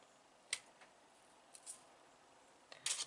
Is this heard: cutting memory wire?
yes